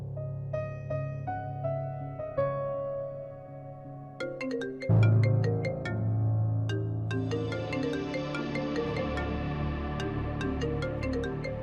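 A melodic phone ringtone plays on, a tinkling tune of repeated chiming notes that swells fuller partway through.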